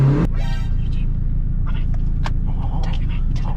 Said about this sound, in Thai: ลากรอบสูงๆนะผม แล้วก็คันเร่งจะอยู่ร้อยตลอดเวลา